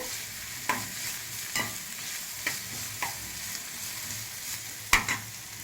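Ridge gourd peel fries in a pan for chutney, a steady soft sizzle broken by about six sharp scrapes of a spatula, close and fairly quiet, with no voices.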